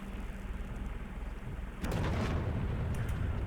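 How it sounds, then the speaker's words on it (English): A flashbang from blue creatures in the video game Rain World hits with a sudden broad burst partway through. Low rumbling before it gives way to a louder, hissing wash that lingers to the end. "that's also what those blue things do. They flashbang you"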